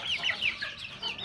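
Farm chickens being raised in Laos give repeated high, chirpy clucks that overlap one another at a moderate distance, over a low background noise. No one speaks.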